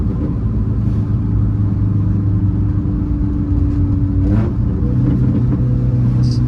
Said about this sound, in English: You could slow down just to get another acceleration run.